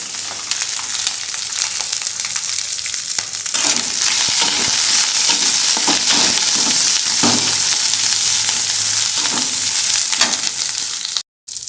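Ginger, garlic, onion and green chili dropped into hot oil with coconut in a home kitchen pan, giving a loud, steady sizzle and crackle that swells once they go in, with stirring scrapes throughout and no speech.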